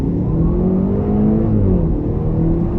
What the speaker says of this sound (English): I'm gonna quickly accelerate again.